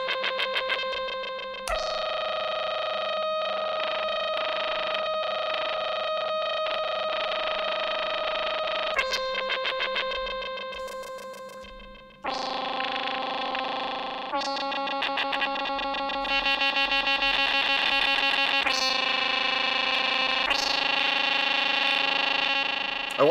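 Distorted, noisy OP-XY synthesizer lead for industrial music, holding harsh buzzing tones that shift between dissonant pitches in a few long sections, loud and continuous with no voices.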